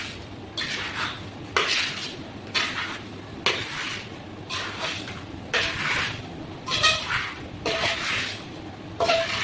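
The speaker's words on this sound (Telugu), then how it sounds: "బాగా వీటికి పట్టేలాగా కలపాలి" Mango pieces being tossed with spice powder, oil, salt and turmeric for avakaya pickle in a large vessel, rhythmic rustling and scraping bursts about once a second, close and fairly loud, with no talking.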